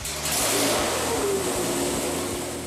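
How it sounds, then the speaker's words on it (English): A low deck Hemi V8 built for a 1970 Dodge Challenger revs on a dyno, a loud, deep engine rumble with rising and falling pulses, close and unbroken. "and our low deck Hemi sounds great already"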